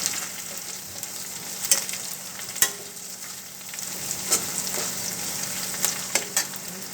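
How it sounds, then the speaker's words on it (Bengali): Bay leaves with dried and fresh green chillies frying in oil for a lentil and green jackfruit dish, a steady close sizzle broken by a few sharp scrapes of a stirring spoon, with no talk. "শুকনো লঙ্কা তেজপাতা আর কাঁচা লঙ্কা দিলাম দিয়ে একটু ভালো করে ফ্রাই করে নেবো"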